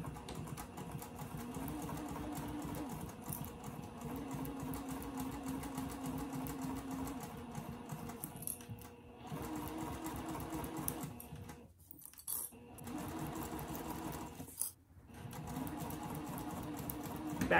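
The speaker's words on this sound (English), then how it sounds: "Now you're just going to go along and stitch that down." A sewing machine runs steadily, stitching a zipper onto a placemat pouch, with a fast even patter that pauses briefly twice near the end. Close and fairly quiet, with no voices.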